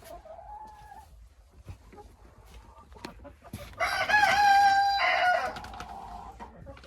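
Hens in a third enclosure of a backyard poultry run cluck and call, with a loud, rising rooster-like crow or cackle bursting out midway, surrounded by softer scattered bird noises.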